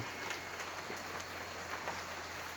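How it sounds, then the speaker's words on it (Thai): Steady rain falls outside at a temple, a soft, dense patter of drops on surfaces with a continuous hiss, moderate and even throughout with no voices. "วันนี้มีฝนลงมาด้านนอก"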